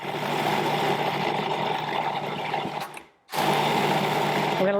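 A food processor runs continuously, blending an antipasti dip into a creamy mixture with a loud, steady motor whir. It cuts out briefly near the three-second mark and then starts again, close and alone.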